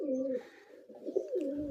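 Several pigeons coo in low, throaty rolling phrases, close and steady, as they sunbathe outdoors after bathing.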